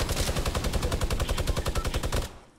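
Automatic gunfire in Fortnite: a loud, fast, even stream of about two dozen shots in a single burst that stops abruptly near the end.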